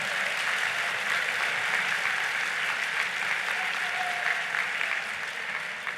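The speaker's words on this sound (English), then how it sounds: "please applaud your neighbor" Sustained audience applause fills a large hall at a progressive political convention keynote, a dense, steady wash of many hands clapping at an even level throughout, with no speech over it.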